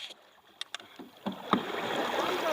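Canoe paddling on the Wekiva River in Florida: a few distinct paddle strokes and splashes up close, followed by steady rushing water and hull wash.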